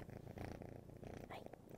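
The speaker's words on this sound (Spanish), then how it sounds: "Ay, esos ronroneos." A cat purrs close and steady, a low continuous rumble that pulses softly with each breath, quiet and with no voices over it.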